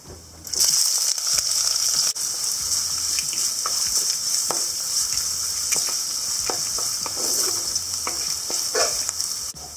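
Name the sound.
ginger, garlic and green chillies sautéing in a pan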